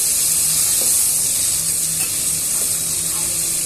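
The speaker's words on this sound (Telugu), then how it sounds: "ఉల్లిపాయ ముక్కల్ని పచ్చిమిరపకాయ ముక్కల్ని బాగా వేయించేసుకోవాలండి" Onion and green chilli pieces fry in hot oil for a Telugu tamarind pulihora, giving a loud, steady sizzle and hiss with faint stirring throughout.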